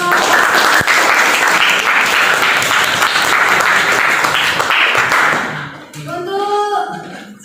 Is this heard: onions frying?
no